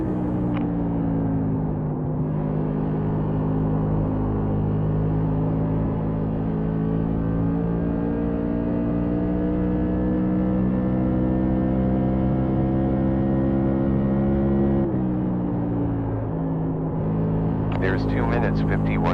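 Race car engines roar in a racing video game, a steady, loud, droning whine that shifts pitch near the middle and keeps going for the whole stretch, with a brief rattle at the end.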